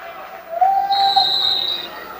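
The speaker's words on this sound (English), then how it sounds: "And we've got a whistle." Referee's whistle at a girls high school basketball game, one sharp shrill blast followed by a brief higher tone, loud and close over faint gym crowd noise.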